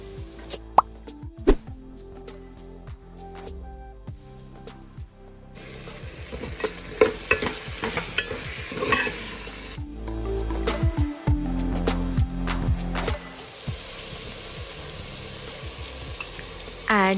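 Chili and tomato added to browned, dark onions frying in oil for a restaurant-style chicken biryani, giving steady sizzling with plops, stirring scrapes and utensil clinks close by, with no talking.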